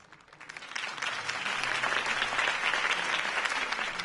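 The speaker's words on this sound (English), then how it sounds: "If only Mr. Wayne, my campaign's largest backer, could have heard that applause" Applause from a large video game crowd at a political campaign event in Batman: The Telltale Series swells up from quiet and holds steady as a dense, continuous wash of clapping.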